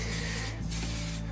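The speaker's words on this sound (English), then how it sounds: "full long sprays to make sure we get as much paint out of that spray can as we can." A spray paint can hissing in long continuous bursts while painting wheels in freezing cold, with a brief pause between sprays, close and steady.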